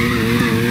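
Tyres squeal steadily through a drift in the Need for Speed Heat racing game, a loud continuous screech over a droning engine with no pauses.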